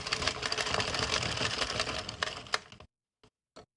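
A Sentro knitting machine is cranked around once, giving a continuous rapid clattering of plastic pins for under three seconds, then stopping, followed by a couple of faint clicks.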